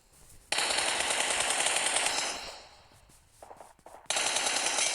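Automatic gunfire in the video game PUBG rattles in two sustained loud bursts with a quieter stretch between them, close and harsh, with no talking over it.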